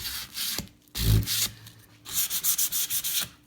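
Sandpaper rubbed over a wooden toolbox being distressed: a couple of long scraping strokes, then a fast run of short rhythmic rubs, close and dry with no voices.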